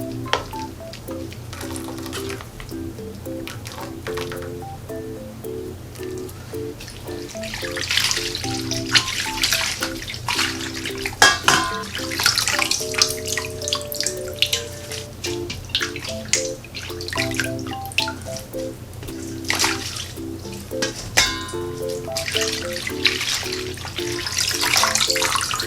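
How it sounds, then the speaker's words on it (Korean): Blanched seaweed stems being rinsed in cold water, with running water from a tap splashing steadily and growing louder partway through, along with a soft clatter of handling. "데친 미역줄기를 건져서 찬물에 한 2번 정도 헹궈 주세요."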